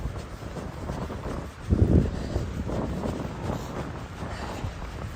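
Wind gusts buffet the microphone on a chilly trail run along the Arizona Trail on the Kaibab Plateau, a low rumbling roar with one stronger gust midway and no voices.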